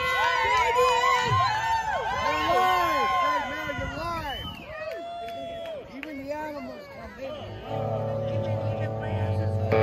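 A concert crowd at The Point in El Segundo, California, cheers and whoops close by, with shouting voices rising and falling throughout and a loud, sustained swell near the end.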